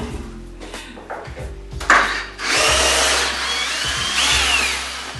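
A power drill backs screws out of subway tile work in a basement storage area, with several short whirring bursts of driving, a sharp louder whine near the middle, and sustained loud drilling through the second half.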